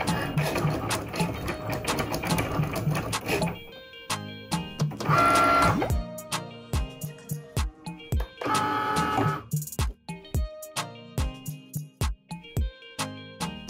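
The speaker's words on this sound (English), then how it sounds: "when you see the C Cricut logo flashing, you're ready to make your cut." A Cricut cutting machine slices vinyl on a mat, giving off a mechanical whirr of carriage moves broken by short ticks and two denser buzzing passes, steady and close with no talk.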